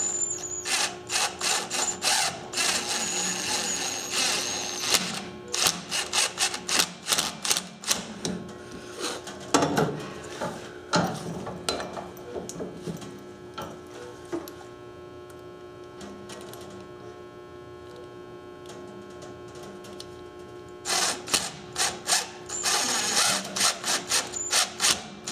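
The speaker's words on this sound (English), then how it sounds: "if you can set the drill to a lower speed, that's much smarter for a self-tapping screw" A cordless drill drives self-tapping screws into a planting trowel in repeated short whirring bursts, close and loud. A long quieter stretch with a faint steady hum breaks them up, and then another series of bursts follows.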